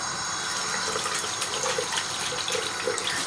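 Running water from a tap splashes steadily as a face is rinsed at a sink during an evening skincare routine after cleansing milk, a continuous close hiss with no talking.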